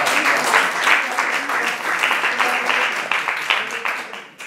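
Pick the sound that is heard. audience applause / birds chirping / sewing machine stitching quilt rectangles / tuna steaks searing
audience applause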